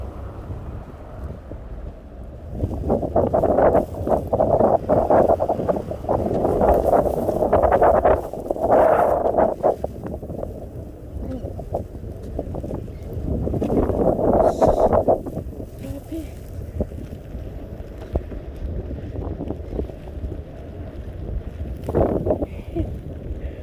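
Strong winter wind gusts buffet the microphone during a heavy snowstorm in Montreal, roaring in waves that swell and fade, with a person speaking close by at times.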